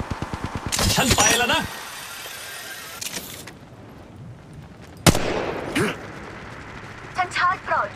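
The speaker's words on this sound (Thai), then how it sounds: "พวกเขายิงใส่ฉันงั้นเหรอ" Gunfire in the mobile battle royale game Apex Legends Mobile, playing Pathfinder in third person: sharp bursts of shots early and a loud single crack midway, with a character voice speaking between them.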